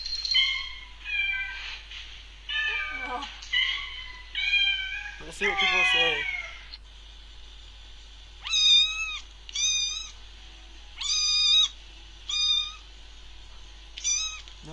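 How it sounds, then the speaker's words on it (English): A cat meows repeatedly in the Mary-Kate & Ashley Crush Course video game, loud, stretched cries coming in a regular series, with people talking over the first half. "Everyone's gonna hear meowing."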